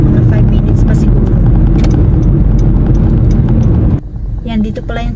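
Busy street traffic around a Calgary road, a loud continuous rumble of passing vehicles with a rougher clattering edge, which drops away abruptly near the end, leaving quieter sounds.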